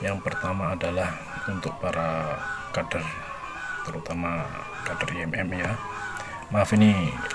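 Neighbour's geese honking in the background, faint intermittent calls under a person speaking steadily in the foreground.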